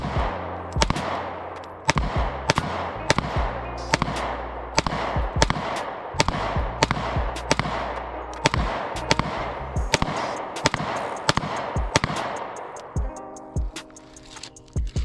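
Gunshots ring out during target shooting at a steady pace, about twenty sharp, loud cracks spaced less than a second apart, each leaving a short decaying echo.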